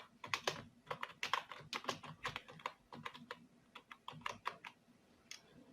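Computer keyboard typing while making an online certificate, a steady run of quick, close key clicks with small pauses between bursts, alone with no talking.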